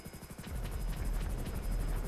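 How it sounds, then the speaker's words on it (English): Helicopter in the video game GTA: a steady, rapid rotor chop that swells from quieter to full strength and holds as a rhythmic thrumming drone, with a thin high whine on top. "Oh, the turning on this helicopter is so slow."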